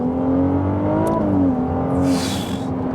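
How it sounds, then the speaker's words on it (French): A Ferrari 296 GTB engine fires up and revs, a close, steady mechanical drone with rising and falling pitch through the whole stretch and a brief hiss near the end. "Donc, t'entends le moteur s'allumer."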